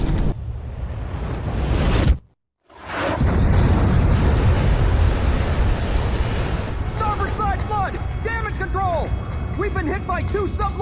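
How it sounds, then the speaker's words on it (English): In the Ace Combat 5 video game, missiles strike a ship with heavy rumbling explosions, a sudden brief silence, then a sustained roar under dramatic sound effects and chirping tones, with voices talking throughout. "Second wave of missiles inbound. 10 seconds to impact."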